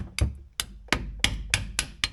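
Seven sharp metallic hammer blows drive a part into a rusty differential, coming close and loud at a fairly even pace that quickens slightly, each one ringing briefly before the next.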